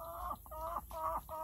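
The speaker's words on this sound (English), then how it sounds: "I'm going to go ahead and let these chickens out for a while" Backyard chickens cluck in a quick run of about four short, nasal calls, close and moderately loud, as they are let out of their run onto grass.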